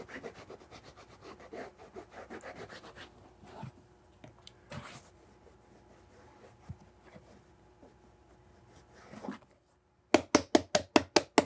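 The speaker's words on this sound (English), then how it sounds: "Smooth it out inside with a piece of smoother sandpaper, and these will be ready to tree." Sandpaper is rubbed inside a handmade leather cowboy boot in soft, rhythmic scraping strokes, followed by quieter scattered rubs and a final run of sharp, evenly spaced knocks.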